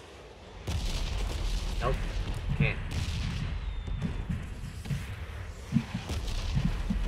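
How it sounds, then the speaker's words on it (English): Explosions in the battle royale game PUBG come as dull booms and scattered bursts at moderate distance, with a player talking briefly over them. "Explosions!"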